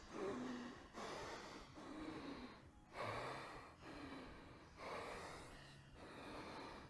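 Heavy, steady breathing through the nose during a workout: repeated long sniffing inhales and exhales in a regular rhythm, close and fairly soft, with no talk.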